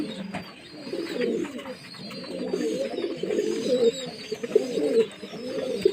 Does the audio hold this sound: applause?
no